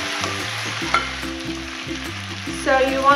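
Grated potatoes for Swiss rösti fry in melted butter in a pan, giving a loud, close, continuous sizzle with light stirring and scraping sounds on top.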